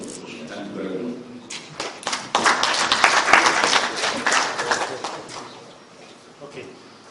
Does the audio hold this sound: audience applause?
yes